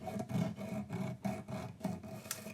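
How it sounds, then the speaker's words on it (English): Steady back-and-forth rasping of an abrasive cord sanding rough edges on a Trini Tuner, in quick rhythmic strokes, close and fairly quiet. "just go to town on sanding away these rough edges"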